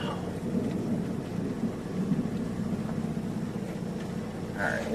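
Deep, rolling thunder rumbles continuously through a Gulf Coast thunderstorm, moderately loud and sustained for the whole stretch with no talking.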